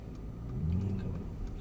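A Mercedes AMG car driving on a track, heard from inside with the roof up: a low, muffled engine rumble that swells gently and holds steady, with no talking.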